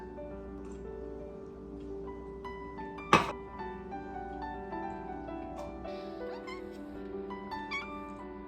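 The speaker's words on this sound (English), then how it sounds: "This cat is genuinely crazy." A cat meows a few times, faint and somewhat distant, against a steady background hum, with one sharp loud click near the middle.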